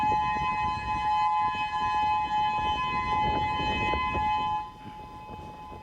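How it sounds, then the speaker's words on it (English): A civil defense siren warns of a tsunami on Maui, its sustained steady wail carrying outdoors over background rumble, loud and unbroken before easing slightly near the end, with no voices. "We have some video of the moment the sirens came down on Maui earlier this afternoon."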